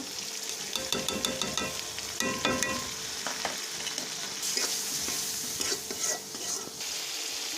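Onion paste, prawns and spice paste fry in a pan, a dense continuous sizzle with spatula scrapes and clinks as the masala is stirred and cooked down.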